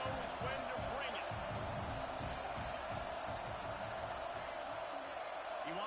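A football stadium crowd roars, likely in a video game, with a dense, continuous wash of cheering and thumping at steady loudness throughout, with rhythmic low pulses beneath.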